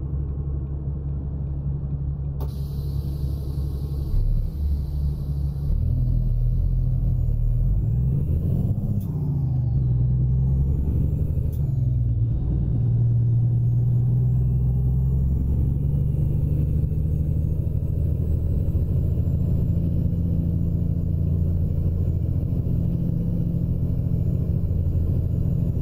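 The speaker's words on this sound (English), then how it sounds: "since we got her fired up, let's get her into gear and get moving" A heavy truck engine in American Truck Simulator rumbles steadily and loudly throughout, holding a low drone with a slight rise as the rig shifts into gear and pulls away; no talk.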